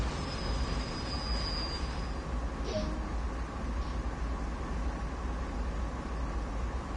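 Train braking in Train Sim World 2 on the Isle of Wight or Cane Creek route: a steady loud rumble of rolling wagons with a thin high squeal early on and brief hissing bursts, continuous throughout.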